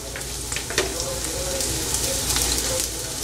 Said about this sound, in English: Now I am going to add fennel seeds, sombu, and I am going to add our chopped small onion